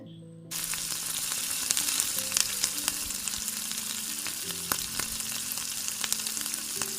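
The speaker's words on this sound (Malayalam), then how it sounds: "ആദ്യം പാൻ ചൂടായതിലേക്ക് ഉള്ളി, കരിവേപ്പില, ഇഞ്ചി വെളുത്തുള്ളി പേസ്റ്റ്," Onion, curry leaves and ginger garlic paste hit a hot pan for a simple chicken roast, bursting into a loud, constant sizzle after a brief quiet start, with scattered crackles and utensil clinks.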